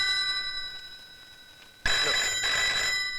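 A telephone bell rings in a 1986 Hindi film scene, a loud, sustained metallic ringing that starts abruptly partway through after a quieter ringing hum.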